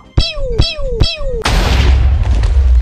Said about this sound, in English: that was the biggest explosion I've ever seen